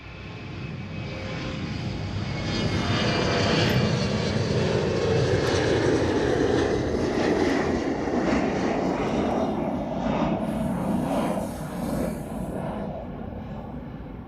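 A Boeing 717 airliner landing at Honolulu roars steadily overhead, a broad sustained engine rumble that swells and then eases slightly as it passes, heard alone without talk.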